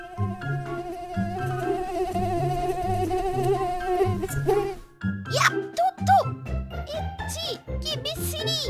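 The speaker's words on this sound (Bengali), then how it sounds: "তুই মশা নাকি মিনি হেলিকপ্টার?" Cartoon mosquito buzzing in a comedic animated scene, a whiny insect drone over bouncy background music with a child-like cartoon voice, the buzz swooping and dipping in the second half.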